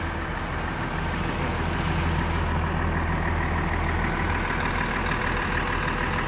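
A Volvo EC460BLC excavator's diesel engine idles in a steady, loud, low rumble that holds without change, with no voices.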